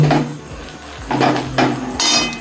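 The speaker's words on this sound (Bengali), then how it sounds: "আলু ভাজাটা দিয়ে নেড়ে দেবো" Fried potatoes are being stirred into egg chow mein in a pan, with a few scraping clatters of utensil against metal at irregular intervals, close and moderately loud.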